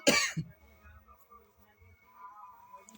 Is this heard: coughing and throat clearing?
yes